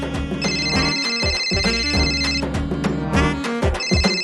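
A telephone rings with a repeating electronic melody, bright and steady throughout, without any voices.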